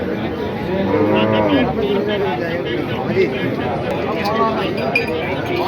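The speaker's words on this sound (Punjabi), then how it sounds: "ਦੇਖੋ ਗਾਂ ਮਾਸ਼ਾਅੱਲਾ" A recently calved cow lows at a village animal market in Gujrat, a long drawn moo heard close amid crowd chatter and people talking, with faint clinks in the background.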